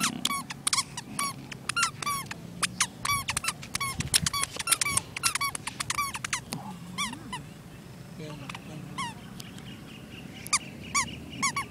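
Many sharp squeaks from shoes being deliberately stamped and walked in, dense at first then sparser, close by, with murmured voices and background noise underneath.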